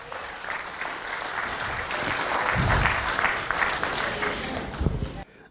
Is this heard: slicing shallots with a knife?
no